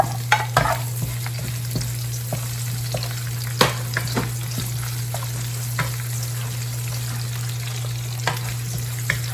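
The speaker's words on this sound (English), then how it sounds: "We will saute the meat like we're frying it a bit" Steady sizzling of meat frying with onion in a pan on high heat for Filipino dinuguan, with occasional sharp clinks and scrapes of a utensil stirring, no voices.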